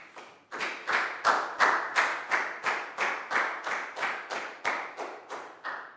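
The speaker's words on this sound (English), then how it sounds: "High five and a big round of applause for Pak Bung, please, guys." A Year 4 school class claps in a slow, steady, even rhythm, each clap distinct and close, with no voices over it.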